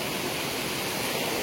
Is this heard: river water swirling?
yes